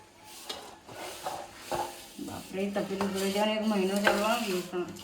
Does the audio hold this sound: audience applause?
no